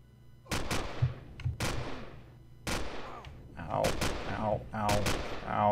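A pulse rifle fires in Empyrion, a space survival game, in sharp repeated bursts of energy shots spaced a second or so apart, loud and close, with a voice briefly between volleys.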